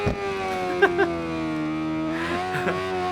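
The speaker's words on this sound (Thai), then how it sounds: "ผมว่าเสียงรถภาคนี้โอเคเลยว่ะ" A motorcycle engine in the racing game RIDE 4 drones steadily while its pitch slowly drops and then holds, with a few short thumps and bursts over it.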